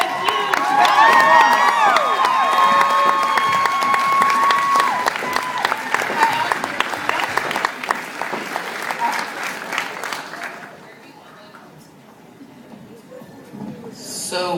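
A crowd at a cosplay craftsmanship competition at a convention breaks into loud applause and cheering with whistles and shouts, sustained for about ten seconds before fading, then swelling again briefly.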